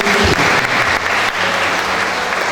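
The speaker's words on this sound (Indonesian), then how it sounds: "Ya, mari kita berikan tepuk tangan." Congregation applause at a church worship service, a loud dense burst of clapping that fills the room, sustained evenly throughout with a brief low voice at the start.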